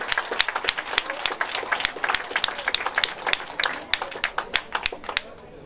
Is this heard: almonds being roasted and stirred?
no